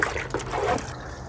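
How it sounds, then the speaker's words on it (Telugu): Jeevamrutham liquid fertiliser, diluted with water, trickles and splashes as it is poured into a 15-litre sprayer tank, a brief close gurgling stream that tapers off. "దీన్ని మనం అందులో పోసేద్దాం డైరెక్ట్గా"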